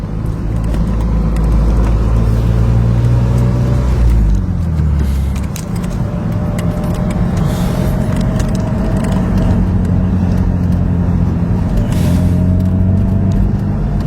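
A Porsche and a Mustang drive past on a road, engines and tyre roar loud and steady, with a deeper rumble swelling and fading midway.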